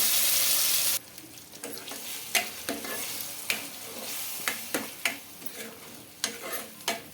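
A tempering for chutney sizzles and crackles in a pan, with a loud burst at the start. After that comes a softer sizzle with intermittent sharp scrapes and clinks from stirring.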